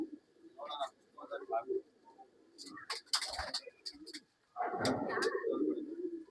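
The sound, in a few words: pigeons cooing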